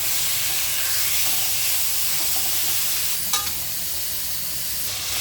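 Bacon fries and sizzles in a pan as its fat renders into oil. A dense, steady hiss carries a brief clatter of stirring partway through, with no voices.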